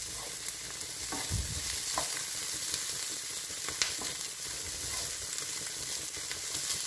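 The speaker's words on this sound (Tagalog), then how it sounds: "Aluin po natin ng maigi." Roasted chicken and onion sizzle steadily in a frying pan while a utensil stirs them, with a few soft scrapes and clinks over the continuous hiss.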